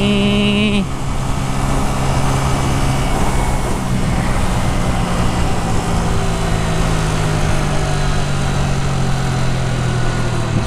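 A Hyosung Aquila 125cc motorbike accelerates on a test ride, a loud continuous engine drone with a steady rising tone, strong wind rumble and no break in the noise.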